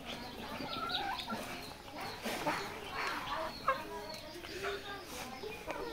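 Layer hens on a poultry farm, several birds clucking and murmuring at moderate distance with a few sharper calls, over soft background noise and faint talk.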